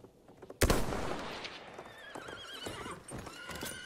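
Gunfire in a chaotic video game battle, a loud sharp blast standing out first, then scattered shots mixed with horse whinnies, hoofbeats and dense battlefield noise.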